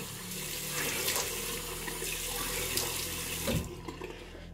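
Warm water running from a tap into a sink during a shave, a soft, steady splashing stream at close range, faint and uninterrupted, with no voices.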